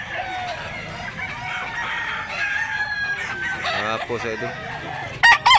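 Roosters crow and cluck nearby at a rooster sale in Mantalungon, Barili, Cebu, with repeated calls over a busy background and a loud crow near the end; someone speaks briefly.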